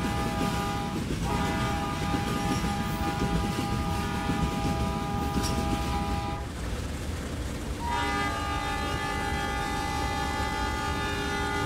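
A WAP5/WDM3D locomotive-hauled train sounds loud, sustained multi-tone horn blasts over a constant rumbling rail drone, the horn breaking off briefly then resuming.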